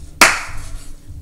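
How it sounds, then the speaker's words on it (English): A single sharp hand clap cracks out loudly and close by, ringing briefly before fading into quiet background. "Why did I clap? That was really loud."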